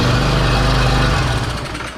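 A Honda GX190 pressure washer engine, repaired after running with no compression, runs loud and steady at close range, its throbbing drone easing slightly as it settles.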